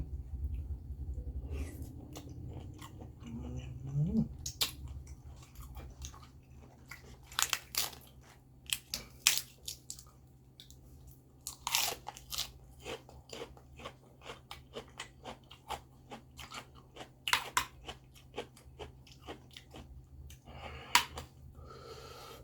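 Close crunchy chewing and biting on a Thai spicy lotus stem salad with fresh shrimp and fermented fish sauce, with irregular crisp bursts repeating steadily over a low steady background hum, no talking.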